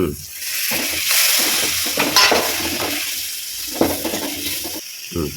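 Loud sizzling and frying as two chopped tomatoes hit a hot pan, with stirring scrapes and bursts of crackle over a steady hiss.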